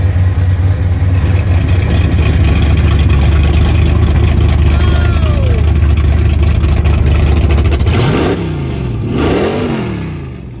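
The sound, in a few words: muscle car exhaust with cutouts open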